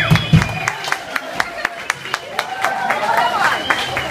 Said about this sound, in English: Give them another round of applause, ladies and gentlemen.